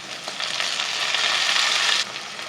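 Chopped tomato and onion hit a hot pan and sizzle loudly, a dense, even hiss that swells and then drops off abruptly after about two seconds.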